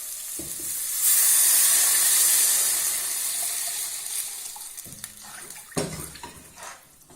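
A sudden loud surge of hissing as broth hits a hot frying pan for cheese soup, settling into bubbling, then clattering of a utensil against the pan.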